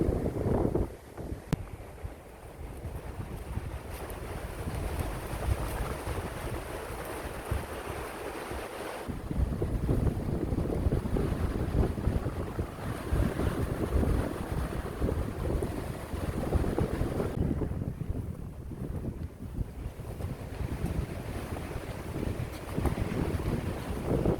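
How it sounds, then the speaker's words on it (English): Strong gusty wind on a ridge line in Wellington, New Zealand buffets the microphone in heavy roaring bursts, broad and loud throughout, with brief lulls between the gusts. "Because it's so windy up on the ridge line"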